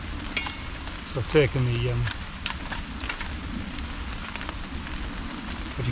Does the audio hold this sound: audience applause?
no